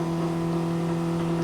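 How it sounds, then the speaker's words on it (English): Steady engine drone from Formula Ford race cars at a 1988 Amaroo Park round, a continuous sustained hum with no clear passes, moderately loud and even throughout. "You can hear the cars revving in the background"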